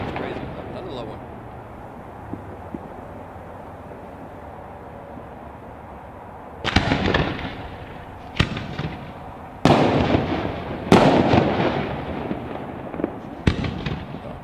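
Fireworks at a graduation show, a series of sharp, loud booms and crackling bursts spaced a second or two apart over a low background murmur of a crowd.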